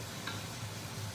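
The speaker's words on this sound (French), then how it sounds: "le bœuf. Dans le beurre. Et on doit bien le laisser cuire." Beef fries in butter in a pan with a steady, close, soft sizzle and a few faint ticks and stirring sounds.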